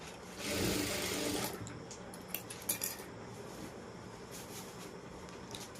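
A sewing machine runs a short, fast burst of stitching on a kurti sleeve, about a second long. Light clinks and handling sounds follow, with quiet room noise between them.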